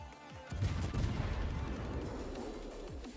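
Heavy naval gunfire from a battleship salvo in the World of Warships video game, with booming low-end blasts rolling into a dense, rumbling barrage that stays loud throughout.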